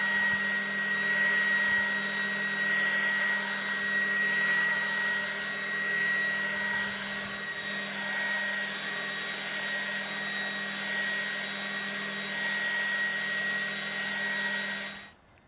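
A Ryobi 40 volt cordless leaf blower runs continuously outdoors with a loud, steady whooshing roar and high motor whine for about fifteen seconds before cutting off.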